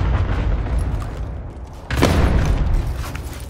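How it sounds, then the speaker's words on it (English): A cluster strike explodes in Call of Duty: Modern Warfare, a heavy booming rumble that surges sharply midway and then rolls on through the rest of the moment. "Enemy cluster strike incoming. Take cover."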